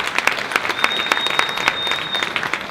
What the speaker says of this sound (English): A round of applause for Lyndhurst Foundation.